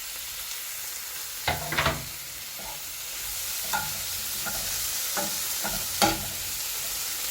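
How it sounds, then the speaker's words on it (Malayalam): Mushrooms and tomatoes fry in a pan for a mushroom omelette, giving a steady sizzle broken by a few close scrapes and clacks as a utensil stirs, with no voices. "ഇനി നമുക്ക് എടുത്ത് വെച്ച മഷ്റൂമും തക്കാളിയൊക്കെ ഇട്ടെടുക്കാം"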